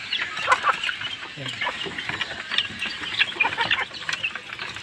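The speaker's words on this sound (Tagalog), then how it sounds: "Yan yung mga alaga nating manok." Pet chickens cluck and chatter softly in a backyard coop, with scattered overlapping calls at moderate distance.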